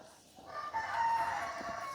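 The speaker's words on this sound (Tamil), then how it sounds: "கோழி கூப்பிடுது" A rooster crows in the distance in a village, one drawn-out call rising over quiet background ambience, faint and somewhat far off.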